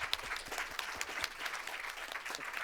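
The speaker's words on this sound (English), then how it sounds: "I want to give all of you a round of applause" An audience applauds students at a summit on using AI for real-world challenges, a steady, dense round of clapping that carries on evenly throughout with no talk over it.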